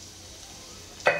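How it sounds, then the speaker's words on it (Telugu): Spices such as fenugreek, mustard seeds, cumin and dried red chillies hit hot oil in a pot for tempering, with a sudden loud sizzle bursting in only at the very end of the otherwise quiet moment. "ఇప్పుడు తాలింపుకి గిన్నె పెట్టుకుని ఆయిల్ పోసుకుని కొన్ని మెంతులు, ఆవాలు, కొంచెం జీలకర్ర,"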